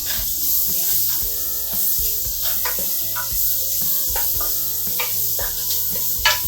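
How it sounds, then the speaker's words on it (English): Onions sauté in olive oil in a pan with a steady hissing sizzle, and intermittent stirring clinks sound close by, continuous and even throughout. "I'm gonna add in the onions, and we're gonna saute them down a little bit."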